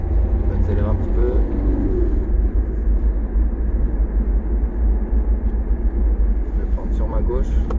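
A car pulls away in second gear and accelerates gently through city traffic in Paris's 13th arrondissement. A steady low engine rumble and road noise fill the clip, and someone talks over it throughout.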